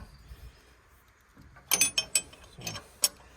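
A hand ratchet snugging down starter bolts on a Farmall 140 tractor, a quick burst of several sharp metallic clicks after a quiet start, then a few more isolated clicks, fairly faint and close.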